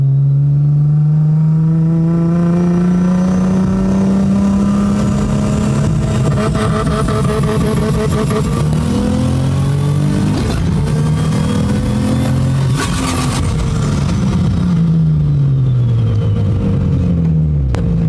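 A turbocharged Nissan G35 accelerates hard under boost, its engine note rising loud and close through the gears with steady, sustained revving and no talk over it.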